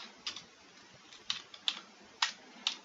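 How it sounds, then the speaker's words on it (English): Soft, scattered keystrokes tap on a computer keyboard, a handful of light clicks at an uneven pace, fairly quiet and close. "once you're done typing all your text, you simply type in done and press enter"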